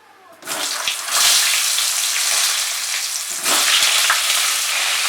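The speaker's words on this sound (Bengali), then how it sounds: "এবারে পটলগুলো ভেজে নেব।" Pointed gourd (potol) hits hot oil in a pan and sets off a loud, dense sizzle that holds steady throughout. A second burst of crackling swells partway through, and no one speaks.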